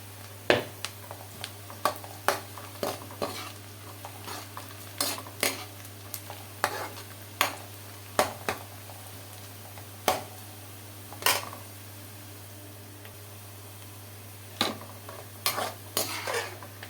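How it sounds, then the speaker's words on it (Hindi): Onions fried and stirred in a pan while cooking fish, with a string of sharp spoon scrapes and clicks against the pan at an uneven pace over a low steady hum and a faint sizzle. "तो मैंने प्याज के साथ क्या करना है, थोड़ा सा और इसको भून लेते हैं।"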